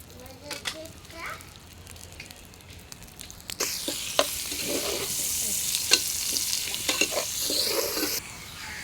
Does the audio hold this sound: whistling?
no